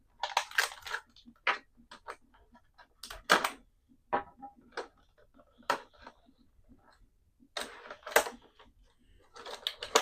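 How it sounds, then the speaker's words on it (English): A NECA Ultimate Pamela Voorhees action figure is cut free from its cardboard box and plastic packaging, with irregular close snips, crinkles and crunching bursts separated by pauses. "let's go ahead and cut out our Mrs. Voorhees out of the box"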